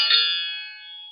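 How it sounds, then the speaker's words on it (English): A Ring Video Doorbell 3 chime tone: a single bright metallic triangle strike rings out and slowly fades, clear and close in an otherwise quiet setting. "Triangle."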